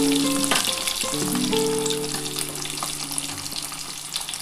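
Cut boiled eggs fry in a pan with a bright, constant hiss of oil, punctuated by a few metallic clinks of a utensil early on as they are lifted out, with no talking.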